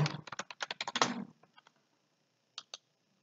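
Quick, light keystrokes on a computer keyboard patter in a close burst of about a dozen clicks, then trail off into a few isolated taps after a pause.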